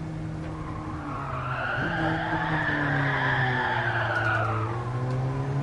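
In Gran Turismo Sport played in PSVR, a race car drifts through an e-brake skid: a long, loud tire squeal that rises and falls over a constant engine drone, heard alone for several seconds.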